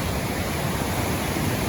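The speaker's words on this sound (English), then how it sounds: "the river gushes by very fast right there" Flooded river in Maine during a big August flood gushing fast over rocks, a loud, steady, broadband roar of rushing water, close and unbroken, with no voices.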